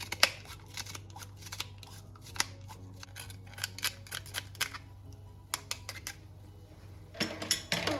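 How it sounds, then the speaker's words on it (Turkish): Two garlic cloves grated for a green olive sauté, with close, quick scraping strokes in uneven bursts and small clicks between them. "2 diş sarımsağı rendeliyorum."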